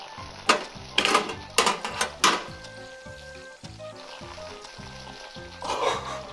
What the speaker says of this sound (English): It is frying.